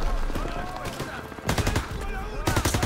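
Call of Duty WWII gunfire on the D-Day beach cracks in sharp bursts, with rapid machine-gun volleys and single shots over a constant battle din, loudest in two heavy salvos later on.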